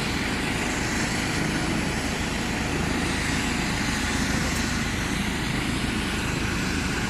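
A helicopter landing or taking off beside trucks near a circle of pine trees on Braden School Road in Chippewa, a loud, constant roar of rotor and engine noise with low throbbing, steady and close for the whole stretch.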